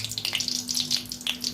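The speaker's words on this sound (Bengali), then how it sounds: "তেলটা গরম হয়ে গেছে, ভালো করে নেড়ে চেড়ে একটু ভেজে নেব" Dried red chillies frying in hot oil, a close, crackling sizzle with fine popping spatters throughout a short moment.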